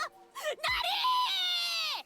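A female video game character lets out a drawn-out, wailing yell close up, rising after a few short vocal bursts and holding for over a second before trailing off.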